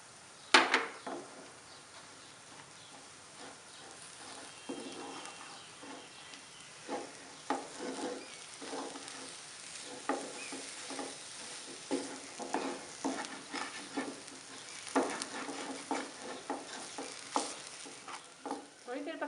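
Aloo kachori potato filling with chaat masala and green chilies stirred and cooked in a pan, a soft steady sizzle broken by repeated scraping stirs, close and fairly quiet.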